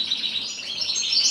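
Finches in a breeding bird room where native birds such as siskins are bred, chirping in a steady high-pitched stream of close, fairly loud tweets with no voices.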